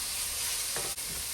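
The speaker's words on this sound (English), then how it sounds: "Now I'm going to add the scallions. You just want to saute your season them for like 3 minutes." Scallions sizzling as they sauté in a pot for a vegetable stew, a steady close frying hiss with a brief stir partway through, no voices.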